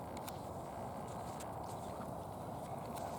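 A horse canters to the right around an arena during a riding lesson, its hooves giving a muffled, rhythmic clip-clop at moderate distance over a steady background, with no talking.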